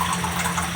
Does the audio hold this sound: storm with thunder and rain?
no